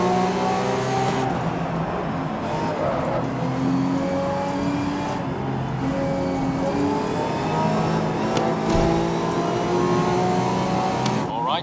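Engines rev and drone at the start of a race in GRID (2019), with a Porsche 911 RSR on the grid; multiple cars hold overlapping, wavering engine tones continuously and loudly throughout.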